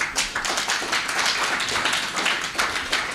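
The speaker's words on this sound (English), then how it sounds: "Now give her a proper clap for PhD." Audience claps at a corporate publishers' annual conference, a fairly sparse, uneven patter of individual hand claps with rhythmic bursts, close and moderately loud.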